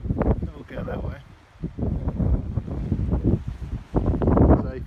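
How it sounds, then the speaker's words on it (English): Strong coastal wind buffets the microphone in rough, gusting bursts, with someone talking over the blustery rumble throughout. "it's pretty windy down here at the moment"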